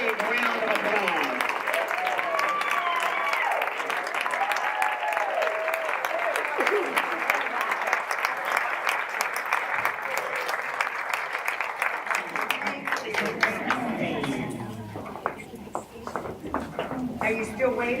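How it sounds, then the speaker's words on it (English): Sustained applause from a sizable audience at a master gardener recognition ceremony, dense and steady, with scattered voices mixed in, fading slightly toward the end. "Let's give them all a big round of applause."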